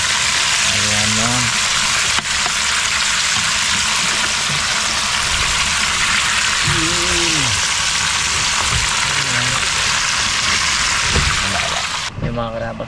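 Food frying in a pan sizzles in a steady, loud hiss throughout, with voices speaking now and then over the crackle.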